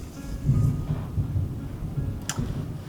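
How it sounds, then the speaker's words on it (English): Low rolling thunder rumbles through a kitchen during bread making, a broad, diffuse roar with a soft swell and a faint crackle near the end, steady and moderately loud with no one speaking. "There's some thunder."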